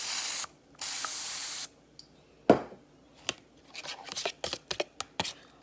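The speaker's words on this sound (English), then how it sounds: "So I have a cooking spray," Two short hissing bursts of a cooking oil aerosol spray, followed by a sharp clack and a flurry of light tapping and handling noises in a kitchen.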